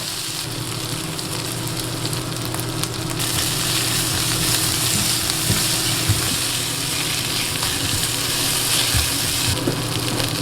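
Pork stir-frying with a splash of rice wine and bean paste on an induction hob gives a loud, continuous sizzle with occasional clicks and scrapes of stirring, close up and without speech.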